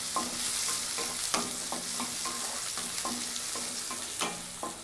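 Onions, spring onion and capsicum fry in a pan for Cabbage Manchurian, with a steady close sizzle and repeated scraping strokes of a spoon stirring through the mix, no voices.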